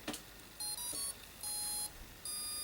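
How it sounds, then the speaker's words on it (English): A short sequence of high electronic beeps from an electronic motor controller of a 20mm electric ducted fan plays in three bursts, tonal and clean, following a faint click at the start. "that's always a good sign when you get the little jingle"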